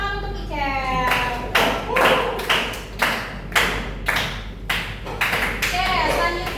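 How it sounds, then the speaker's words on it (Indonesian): Vocational school class clapping for a student, a burst of hand claps in uneven rhythm after a short spoken phrase, with a few louder claps standing out near the listener in a reverberant classroom. "terima kasih, tepuk tangan untuk Icel."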